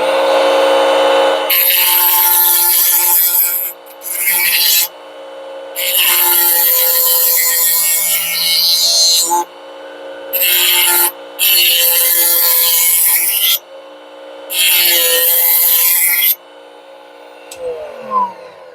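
Grinding away the teeth of a wood-cutting oscillating multi-tool blade with a power tool, a loud, harsh abrasive screech in several long bursts separated by brief pauses, ending with a quieter scrape.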